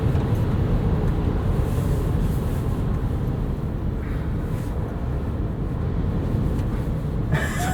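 Steady low road and wind rumble inside a 2023 Rivian R1T pickup cruising on all-terrain tires, a constant broadband hum with no voices.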